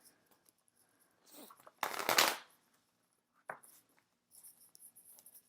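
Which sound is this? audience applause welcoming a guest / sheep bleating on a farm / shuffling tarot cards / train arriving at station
shuffling tarot cards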